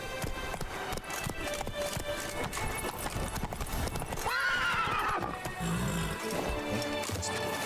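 Roach the horse in The Witcher 3: Wild Hunt, Blood and Wine, with quick hooves clip-clopping at a gallop, then a loud rising neigh midway, over game background sound.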